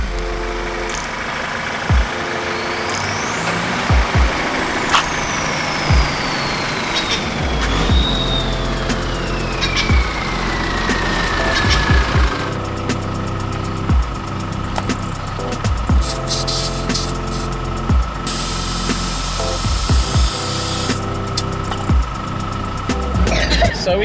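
A 4WD vehicle's engine as it drives out toward Inskip Point on tyres aired down to 20 PSI, a steady rumbling drone with passing whines and clicks, heard from inside the cabin.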